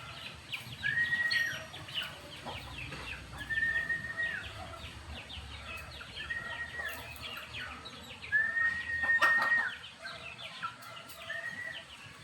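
Chickens cluck and squawk around feeding time in a Filipino yard, with repeated bird calls rising over a noisy outdoor background.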